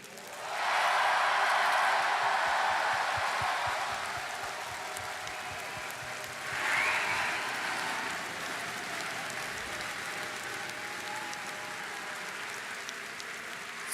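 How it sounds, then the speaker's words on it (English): A crowd applauds loudly at TennoCon, swelling quickly then tapering, with a second burst of clapping and cheering midway before fading to a lingering patter. "If I could get a big round of applause for everyone at DE."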